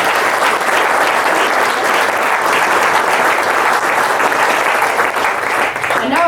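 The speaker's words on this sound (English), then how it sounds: "Would you give them a round of applause?" An audience at a groundbreaking ceremony for an innovation studio breaks into steady, dense applause that holds at an even level for about six seconds, with a faint murmur of the crowd underneath.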